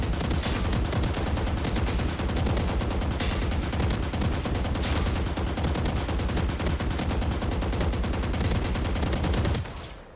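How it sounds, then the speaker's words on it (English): Sustained rapid gunfire sprayed at a wall in the Valorant practice range, a dense, loud, continuous stream of shots that cuts off just before the end, with no talking. "the only way for you to practice it is just coming to a practice range and shooting against the wall"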